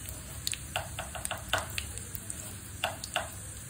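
Dried red chillies fry in about four tablespoons of oil in a kadai, giving a soft, steady crackle broken by light ticking pops and occasional stirring taps, fairly quiet and close.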